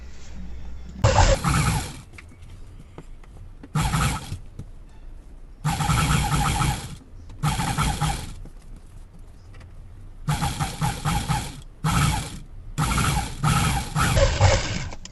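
A sewing machine stitches a blouse seam in loud, close bursts of rapid mechanical whirring, each lasting a second or two and separated by short pauses, with no talk over them.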